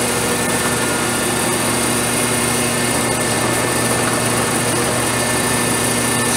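A Challenge HB 26 five-inch hydraulic paper cutter runs its cycle with a loud, steady mechanical hum and whine that holds without a break the whole time, with no speech.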